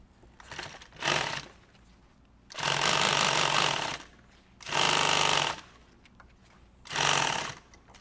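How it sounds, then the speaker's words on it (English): A sewing machine sews handles onto a nylon tactical bag stabilized with 500 Cordura, running in four loud, close bursts of rapid stitching separated by short pauses. "I'm going to go ahead and sew the handles on here."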